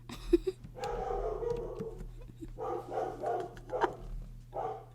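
A dog barks in several bursts, picked up indoors from a distance, most likely from upstairs, with a steady low hum running underneath.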